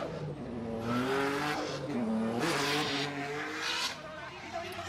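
A Nissan Z33 Fairlady drift car works through a corner at Ebisu Circuit West Course in Fukushima, its engine revving and wavering as the pitch climbs and dips, with tire squeal rising and a commentator talking over it.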